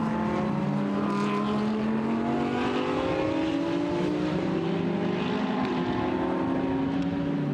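BMW and Ferrari GT race cars racing at the Hungaroring during a Blancpain GT Sports Club qualifying race, a continuous loud engine roar with pitch rising through acceleration as the cars pass.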